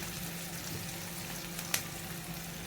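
Softened onions and chicken gizzards fry in a pan with a faint, continuous sizzle and one brief clink partway through.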